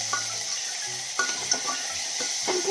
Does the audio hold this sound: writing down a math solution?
no